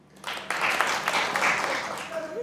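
A studio audience at a Pakistani comedy talk show bursts into steady applause, building quickly and holding for about two seconds.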